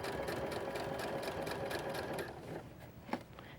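Sewing machine topstitching bias tape along the edge of a little girl's ruffled party dress skirt, a quiet rapid whirring hum for about two seconds, then stopping, followed by a small click.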